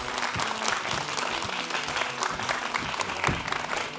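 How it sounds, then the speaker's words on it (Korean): An audience in a lecture hall gives a welcoming round of applause for Ecopro's marketing director before a class on secondary batteries: dense, steady clapping that holds for about four seconds with no voices over it. "큰 박수로 맞이해 주십시오"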